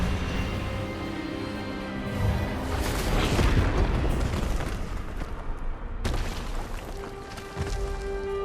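A disarming spell cast during a duel in Hogwarts Legacy gives a loud, dense magical blast: a booming surge builds and swells, then a sharp cut leads into lighter crackling impacts, with no voices heard.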